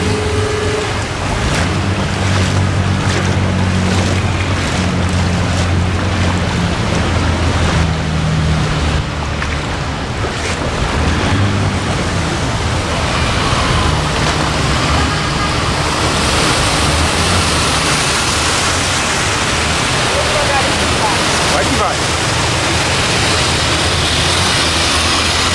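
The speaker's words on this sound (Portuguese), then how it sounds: "Tudo inundado de água." Floodwater pours through a flooded street in Vila Prudente, São Paulo, during the first flood of 2014, a loud, steady rushing wash that holds unbroken throughout, with low rumbling underneath.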